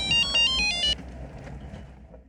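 A telephone rings indoors with an electronic ringtone, a few bright repeating tonal pulses that cut off after about a second, leaving quiet room noise.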